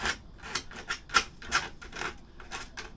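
Scotch pad or sandpaper scuffing a plastic scooter panel to key it for filler, a run of short, close rasping strokes in an uneven rhythm with no talk.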